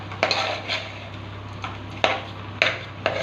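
A spoon stirs sella rice coated in masala in a metal pot for chicken mandi, giving several sharp scraping clinks at uneven intervals over a quiet background hum.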